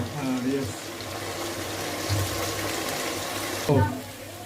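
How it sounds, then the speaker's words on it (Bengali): Water poured into a biryani spice mix makes a steady, moderately loud trickling and splashing stream lasting several seconds, with a brief louder splash near the end and no clear talking. "মশলার ভিতরে পানি দিয়ে দিলাম।"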